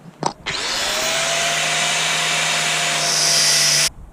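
A power grinder spins up and cuts into the fiberglass around a through-hull fitting on a Bianca 27 sailboat. It gives a loud, sustained high whine for about three seconds, then stops abruptly.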